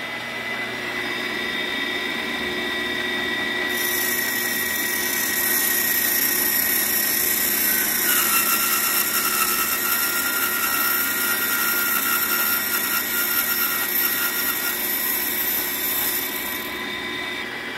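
An old Kwik-Way SV valve resurfacer grinding a pitted valve gives a steady high-pitched whine and motor hum, and the grinding hiss grows louder midway before tapering off, with no voices.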